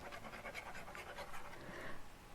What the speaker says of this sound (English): my dog is chasing something in his sleep in the background.